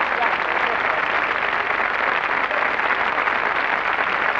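A crowd claps steadily and loudly, the applause sustained throughout without a break.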